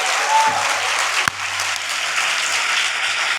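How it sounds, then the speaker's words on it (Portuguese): An audience applauding at the end of a talk: steady, dense clapping from many hands, fairly loud and even throughout, with a low hum underneath and no speech. "E gostando ou não, chegou a hora de aplaudir"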